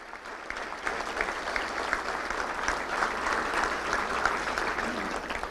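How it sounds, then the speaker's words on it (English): Steady applause from an audience at a Little Rock Touchdown Club luncheon, honoring family members of young football players on stage; dense, continuous clapping across the whole stretch at moderate distance. "let's give them a round of applause"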